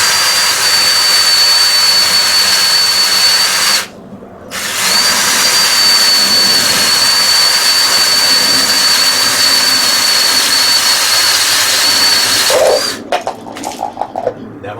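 A power drill fitted with a paddle bit runs at a loud, close, high whine. It pauses briefly near the start, spins up again and runs steadily until it stops, followed by a few clattering handling noises.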